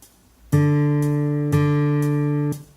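Two long sustained minim notes in 4/4, each held two beats, about a second, starting at half-second and one-and-a-half seconds, clean and steady with no voices.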